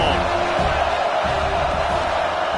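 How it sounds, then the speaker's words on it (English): A football stadium crowd roars in a continuous, loud wash of cheering and whooping that fills the whole stretch with no break. "This crowd ready to make its presence known."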